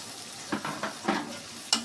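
Dried churi fish (shutki) stirred in a frying pan: a run of scraping, clattering spatula strokes about every quarter second over a soft, steady sizzle, close and fairly quiet, ending with a sharper scrape.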